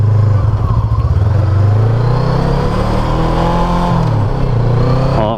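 An FKM Glider 500S cruiser motorcycle engine drones loud and steady while riding, with its low rumble holding close throughout and the pitch shifting slightly as the throttle changes.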